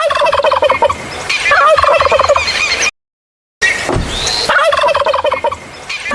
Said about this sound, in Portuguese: apenas os perus machos gorgolejam